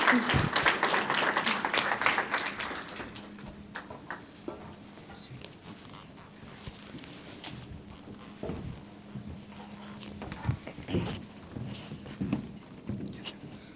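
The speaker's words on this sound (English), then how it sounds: "Please give one more round of applause to our keynote speaker, Mr. Chris Baker." An audience at a 2023 DACC National Technical Honor Society induction ceremony applauds the keynote speaker. Dense clapping at the start quickly thins to scattered claps and room noise, with faint voices and shuffling.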